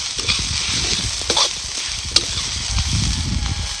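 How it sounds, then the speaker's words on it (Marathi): Garlic thecha (crushed garlic chutney) sizzles and scrapes on a hot tava, with steady stirring strokes and a spatula tapping against the metal, close up and continuous. "चांगला असा तव्याला लागस्तवर खरपूस असा आपल्याला ह्यो परतायचा"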